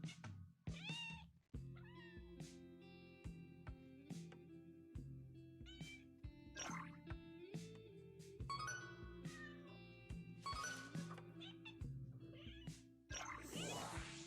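Repeated cat meows from the video game Hidden Cats in Istanbul, many separate calls in varied pitches over a steady looping musical background, clear and close.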